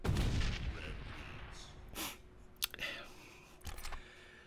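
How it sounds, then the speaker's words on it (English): Rocket blasts strike the ball in the arena video game QFIELD, a sharp burst near the start followed by several quick, crisp cracks and whooshes of moderate loudness spread across the moment. "every single rocket blast actually has an effect realistically on the ball"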